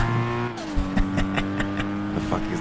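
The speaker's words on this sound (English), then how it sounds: "Did you hear the car drive by?" Video-game car engine hums close by, its pitch sliding downward as it passes, followed by a string of sharp thumps and brief squeal-like bursts over the continuing motor drone.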